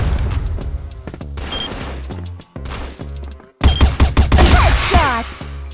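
Dense gunfire and explosive booms from the first-person shooter CrossFire 3.0 during a match, with rapid overlapping shots and blasts. A brief lull is followed by an even louder, sustained barrage.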